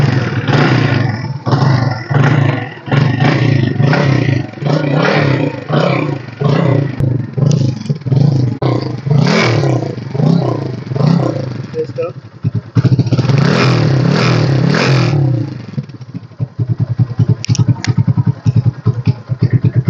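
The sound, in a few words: Hero Splendor motorcycle engine started and revving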